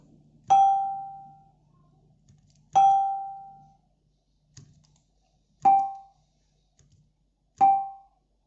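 A small Karo penganak gong is struck five times at uneven intervals, each a bright, clear ping that rings briefly and decays. The third hit is softer, and there is quiet in between.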